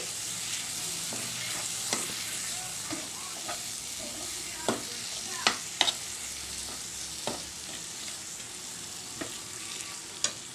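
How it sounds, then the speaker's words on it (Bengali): Smooth spice paste frying with lightly browned onions in a pan, a continuous close sizzle broken by sharp clicks and scrapes of a spatula stirring. "পেঁয়াজটা যখন হালকা ব্রাউন হয়ে গেছে তখন আমি ওই স্মুথ পেস্টটা এর মধ্যে দিয়ে দিয়েছি দিয়ে একটু নাড়াচাড়া করে নিচ্ছি"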